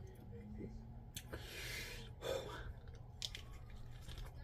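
A bite of Korean bulgogi fried rice with kimchi is chewed close up, producing soft, wet crunching and smacking at low volume with a few brief louder moments.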